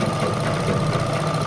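Sewing machine stitching a designer V-neck blouse, running steadily and loudly throughout with a continuous mechanical hum and rapid needle rhythm.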